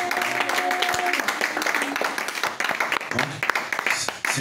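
A church congregation claps and cheers during a worship service, dense broadband applause with rhythmic clapping running throughout, loud and close, with voices mixed into the crowd noise.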